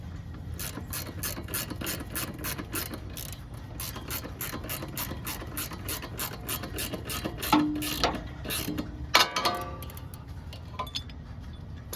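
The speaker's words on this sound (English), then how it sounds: "And then we can get our adjustable wrench back in here." An adjustable wrench ratchets and clicks steadily on an upper nut while a B18 transmission is removed in a junkyard, a fairly quiet run of regular ticks ending in a few louder metallic clanks.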